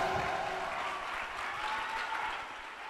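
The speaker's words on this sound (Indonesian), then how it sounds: "Tepuk tangan dulu anak-anak kita." Applause for students at a Maulid Nabi and graduation ceremony in an Islamic boarding school, a crowd clapping steadily at moderate distance, fairly faint, with a faint voice heard over the start.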